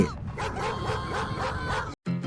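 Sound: dog barking

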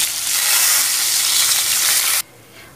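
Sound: potato strips frying in hot oil

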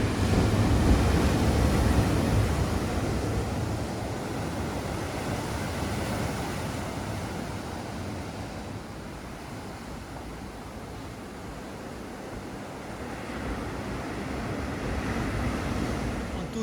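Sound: ocean waves breaking on the New Zealand coast

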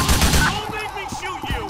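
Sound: gunshot in the video game GTA IV

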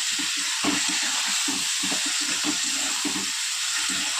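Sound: water hissing as it hits hot spices in a pan

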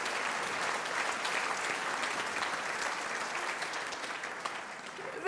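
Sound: applause

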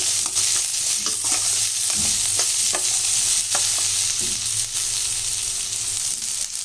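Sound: onions sautéing and being stirred in a pan

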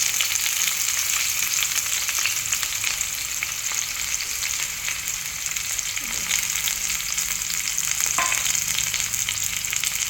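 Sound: shallots, garlic and curry leaves frying in hot coconut oil

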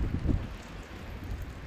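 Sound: strong wind

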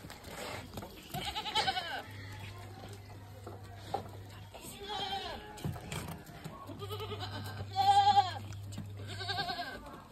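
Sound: goat bleating while being milked

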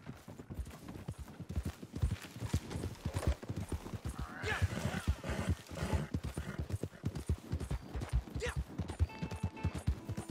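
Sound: horse hooves on road, from video game Red Dead Redemption 2

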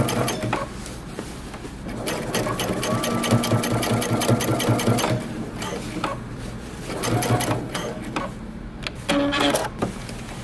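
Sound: sewing machine top stitching jeans

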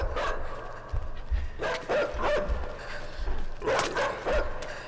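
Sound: dog barking in a video game

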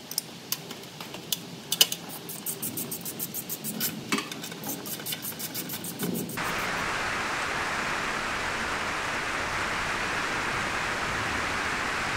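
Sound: rain outside a workshop

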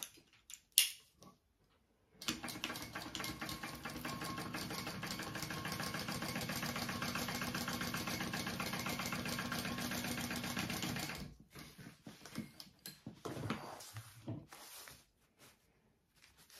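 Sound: sewing machine stitching fabric pieces together

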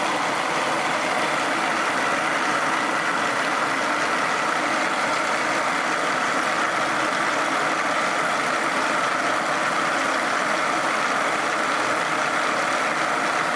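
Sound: Searl effect generator demo rotor spinning up with electromagnets

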